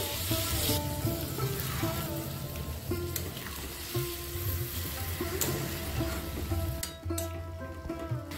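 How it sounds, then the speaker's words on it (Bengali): Mutton keema sizzles and fries steadily in a pan after about a cup of water goes in, a continuous crackling hiss broken by stirring scrapes and a few sharp clicks of a utensil. "এতে আমি দিয়ে দিচ্ছি 1 কাপ মতো জল।"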